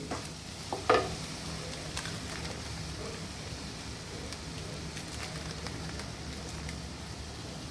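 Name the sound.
masala frying in oil for chicken biryani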